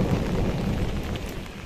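A thunderstorm over a village after hail, with a low rumble of thunder under steady falling rain, loud and close throughout the short stretch.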